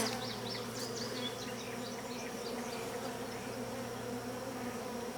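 Honeybees in a hybrid beehive colony give off a continuous, even buzz, a dense close-up drone of many wings with occasional individual bees passing nearer, and no voices.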